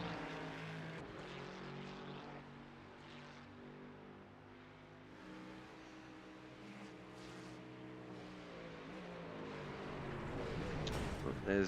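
A GT3 race car in a sim racing game accelerating back up to speed, its engine note droning and climbing in pitch through several gear changes and swelling louder near the end, with a commentator talking over it.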